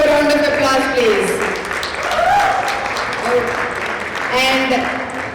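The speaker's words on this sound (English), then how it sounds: "Give him a big round of applause, please." Applause from the audience at an alumni association convention in New Jersey rises under and between a host's amplified speech, steady clapping filling the hall.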